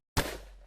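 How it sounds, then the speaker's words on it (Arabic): A single gunshot in the Blood Money video game, a sudden loud crack that decays into a ringing tail. "طلقة السلاح رنت في المكان"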